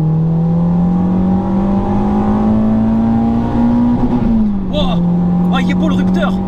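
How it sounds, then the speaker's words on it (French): Renault Clio 2 RS engine held loud against its rev limiter, a steady high droning tone that bounces off the limiter then drops slightly, with people talking briefly near the end. "il est beau le rupteur."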